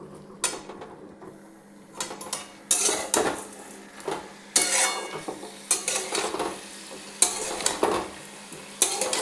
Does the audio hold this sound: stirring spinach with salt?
yes